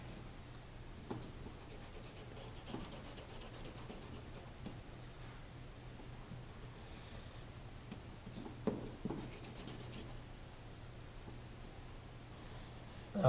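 Pencil drawing lines and circles on paper, a soft continuous scratching with occasional sharper strokes, quiet and close over a low steady hum.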